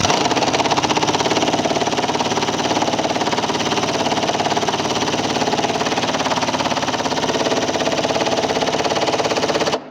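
An impact wrench runs in a steady, loud, rapid buzzing hammer for nearly ten seconds, tightening a nut on a Crusader rock slider being installed on a JL Jeep Wrangler. It stops abruptly at the end.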